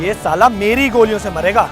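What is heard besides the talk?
None of the usual background noises is heard.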